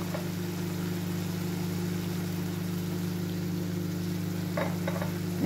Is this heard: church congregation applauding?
no